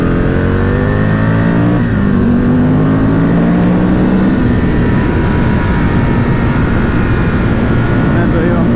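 An Aprilia RSV Mille R motorcycle on old tyres riding off on the Isle of Man, its engine loud and close, revving up through rising tones before settling into a steady roar.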